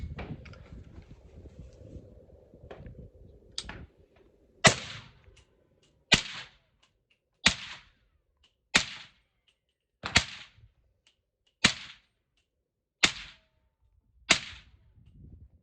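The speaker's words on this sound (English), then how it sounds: "gonna shoot some 300 blackout supersonic, and we're gonna test the noise difference" 300 Blackout rifle firing supersonic ammunition outdoors, eight loud, sharp cracks at a steady pace about every second and a half, each with a short decaying tail, after some quiet background rustling.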